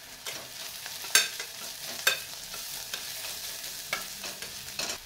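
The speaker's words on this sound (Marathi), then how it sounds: "आता हे आपल्याला 2 मिनिट पुन्हा भाजून घ्यायचं आहे" Soda biryani ingredients are stirred and roasted in a pressure cooker: a continuous soft sizzle with metallic spoon scrapes and clinks against the pot, nearby and without talk.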